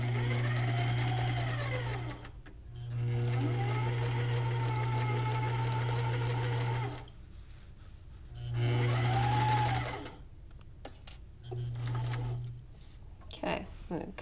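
A sewing machine stitches a pocket onto the front of a bag in four separate runs of steady mechanical whirring, stopping and starting, with a quiet voice in the pauses.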